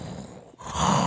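A person imitates whales snoring at night with a breathy, rumbling exhale that dips briefly then swells into a loud, hoarse groan lasting about a second.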